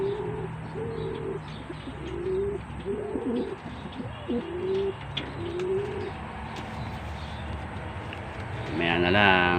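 Racing pigeons cooing in a loft in a repeated rhythmic series of soft low coos, fairly close, followed by a brief flutter or scuffle near the end; a person talks faintly in the background.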